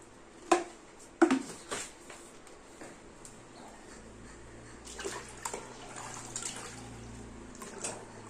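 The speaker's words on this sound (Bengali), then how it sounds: "জামা কাপড় ভিজিয়ে নেবো স্কুলের জামা আছে" Water running into a tub as school clothes are put to soak: a few sharp splashes and clatters at the start, then a soft, steady pour and trickle with occasional sloshes.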